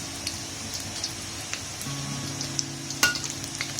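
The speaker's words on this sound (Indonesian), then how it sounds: "Telur yang telah dikukus kemudian kita goreng seperti ini agar adonan dari telur tersebut tidak pecah." Steamed egg roll for a beef roulade frying in a pan, a soft steady sizzle with faint crackles throughout and one sharper pop near the end.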